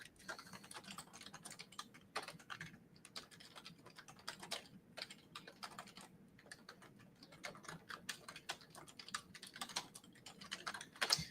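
Rapid, quiet typing on a computer keyboard during a live stock market stream, an even run of soft key clicks with no voices.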